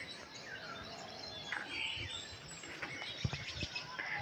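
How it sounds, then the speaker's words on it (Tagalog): Scattered bird chirps and tweets over a faint hum of insects in the countryside in the early morning, quiet and distant, no voices. "Marinig mo dito ay mga huni ng ibon, umagang-umaga."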